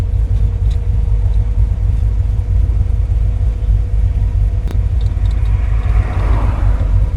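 A Ford Country Squire station wagon drives along, heard from the cabin as a continuous low road rumble and engine drone at a steady level, with a brief click partway through and no talking.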